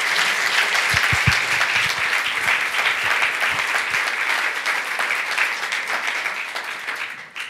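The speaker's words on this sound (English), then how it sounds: "a warm round of applause for our featured speaker this afternoon, Khaled Hosseini." A large audience applauds steadily for a featured speaker at a talk, dense sustained clapping filling the room from start to finish before tapering off at the very end.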